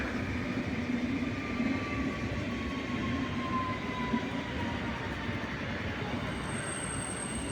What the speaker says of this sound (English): Il treno regionale di Cruz delle ore 11:51 per Trieste Centrale è in arrivo a binario 2.